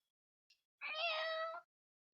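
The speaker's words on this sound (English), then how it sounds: "The cat meows a few times as if trying to wake Emily up." A cat gives one clear, drawn-out meow up close, preceded by a faint tiny chirp, in an otherwise quiet room.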